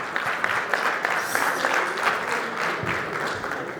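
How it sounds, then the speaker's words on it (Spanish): A public-security forum audience gives a steady, dense round of applause, even and sustained throughout with no pauses. "Le damos la bienvenida con un fuerte aplauso."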